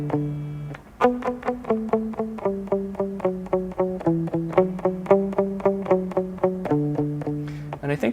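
Electric guitar plays a song's bridge, a steady run of bright picked notes in a driving, even rhythm, loud and close with no talking.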